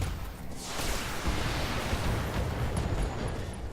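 A mech blows up in the BattleTech video game, a loud sustained roaring blast of broad rumbling noise that swells and holds, then slowly tails off.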